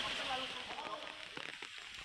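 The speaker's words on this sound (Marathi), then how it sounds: "सिंधुदुर्गात सकाळपासूनच मुसळधार पाऊस कोसळतोय।" Heavy rain pours down in Sindhudurg during an unseasonal summer downpour, a steady broadband hiss filling the whole stretch with scattered drop impacts and faint background voices underneath.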